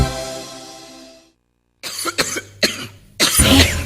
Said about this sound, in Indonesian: Batuk-batuk tuh, jangan-jangan batuk berdahak